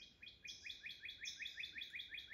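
A hooded warbler sings in hot summer woodland: a run of bright, clear, rapidly repeated whistled notes in a steady rhythm, moderately faint and alone with no talk.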